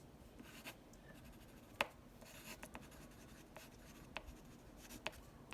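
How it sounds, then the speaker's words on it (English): Pencil signing a name on a palm tree sketch, faint soft scratching strokes with a few sharper ticks and taps, quiet and close. "Sign your name."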